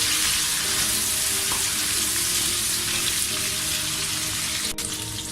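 Steady, crackling sizzle of mutton frying in a hot pan for karahi, with a faint clink partway through.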